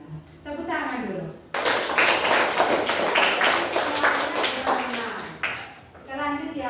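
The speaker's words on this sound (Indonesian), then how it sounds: "Tepuk tangan dulu." A classroom audience claps together in a dense burst of applause lasting several seconds, with speech before and after it during a lesson on AI ethics.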